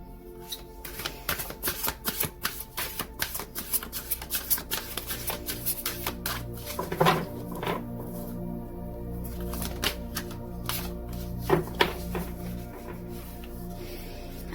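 Eternal Love tarot-style cards being shuffled by hand, with dense rapid riffling and flicking bursts and occasional louder snaps, close up and without speech.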